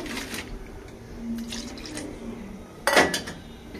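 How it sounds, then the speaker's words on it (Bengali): Water poured into a bowl of batter for gola ruti, with soft dripping and liquid sounds, light clinks of a utensil against the bowl, and a brief louder splash near the end. "জল দিয়ে দেবো"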